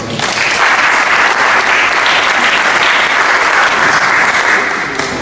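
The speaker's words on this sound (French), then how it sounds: "Bravo, vous pouvez les applaudir." Loud, sustained applause from an audience for national award winners at an evening business awards ceremony, a dense continuous wash of clapping that swells and holds steady throughout, with no talk over it.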